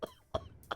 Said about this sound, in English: Why are you coughing?